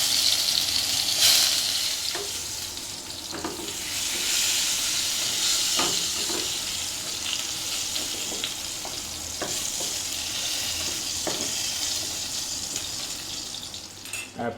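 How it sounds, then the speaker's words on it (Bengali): Pointed gourd (potol) frying in hot oil, a steady close sizzle with hissing steam and occasional stirring clicks running throughout, no voices. "বাকি যে উপকরণ সেটা হচ্ছে আমরা এই পটলগুলো একটু ভেজে নিব।"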